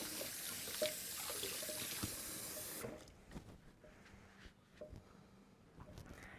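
A tap runs steadily while a dirty spoon is washed in a kitchen, the water hissing for about three seconds before it shuts off, followed by a few faint clinks and drips.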